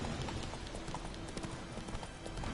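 Horse hooves clip-clopping in The Witcher video game, a quiet steady trotting rhythm of hoof falls over a soft ambient background, with no voices.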